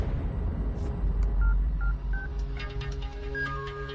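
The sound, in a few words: phone ringtone in a movie scene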